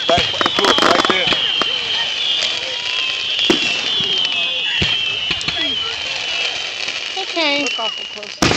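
Fireworks display outdoors, with repeated sharp pops, crackles and bursts scattered throughout, whistling rising shells near the end, and people chatting in between the blasts.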